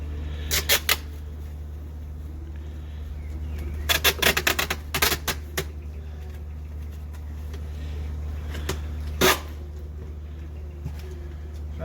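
Packing tape is pulled off the roll in several short, sharp screeching rips to seal a wooden box holding a captured honey bee swarm outdoors, close, over a steady low background hum.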